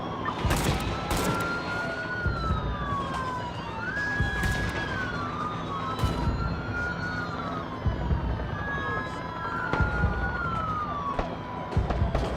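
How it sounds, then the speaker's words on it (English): A sniper fires a rifle during a police shootout on a city street: sharp, distant cracks come repeatedly at irregular intervals under continuous wailing police sirens. "He's shooting right now."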